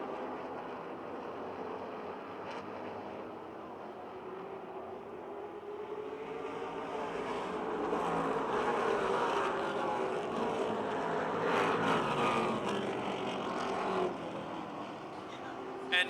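Race cars roar down the back straight at Motordrome Speedway, the leaders running close together with four laps left; a steady, loud engine drone swells in the middle as the pack passes, under a faint commentary voice.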